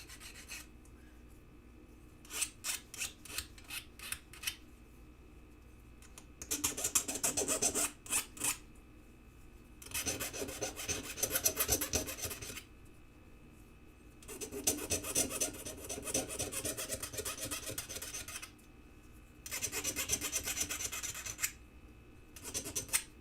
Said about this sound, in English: So I'm going to go ahead and file this down a little bit. Take off any raw edges.